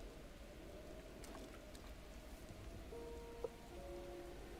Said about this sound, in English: wait here for the rain to stop